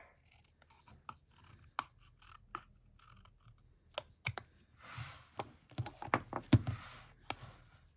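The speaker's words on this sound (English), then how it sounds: "I could cut just a little bit off of this edge here." Scissors snipping the edge of a paper sticker, with scattered sharp clicks and short crisp cuts up close and a denser flurry of small snips and rustles toward the end, quiet and without speech.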